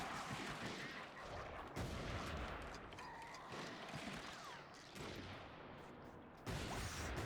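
Gunfire pours in on the player in Darkwatch, a dense, continuous clatter of shots and impacts that jumps in loudness at a few points, with no speech over it.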